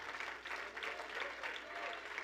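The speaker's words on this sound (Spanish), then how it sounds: "De veras, ese aplauso es para el Señor." A church congregation claps for the Lord in a continuous, even patter of hands, fairly distant and soft, with faint voices beneath it.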